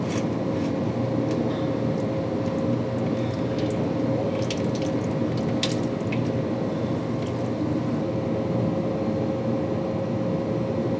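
Water and oil drain from the engine of a 1972 Peterbilt truck in a steady, close splashing pour, with scattered drips and small splatters throughout and no voices.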